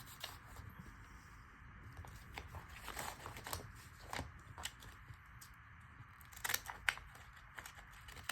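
Scissors snip through a decorated paper bag in a run of short, close crisp cuts, with a louder pair of snips near the end over faint background hiss.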